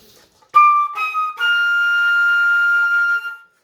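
A flute plays a few sustained high notes, the last held steadily for a couple of seconds, clear and close with no other sound around it.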